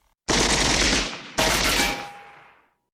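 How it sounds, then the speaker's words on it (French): Retro 1980s-style gunshot sound effects made for a Lego Batman 1989 film: two loud, close rapid-fire bursts, the second cutting in after the first and trailing off with a ringing tail. "J'ai bien sûr été allé chercher des bruitages rétro des années 80, pour les coups de feu par exemple."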